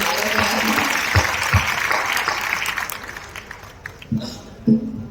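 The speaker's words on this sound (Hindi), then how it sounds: "तालियां बजा दीजिए भाई" An audience at a Hindi poetry gathering (kavi sammelan) applauds steadily for several seconds, the clapping thinning out toward the end while a voice speaks over it.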